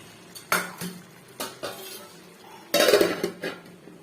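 Mushroom curry stirred in a pan for a mushroom bread sandwich, heard as a few separate scraping clinks of a spoon against the pan, with a louder burst of scraping near the end, no talking.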